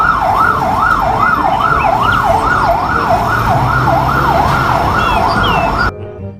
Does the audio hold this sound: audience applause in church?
no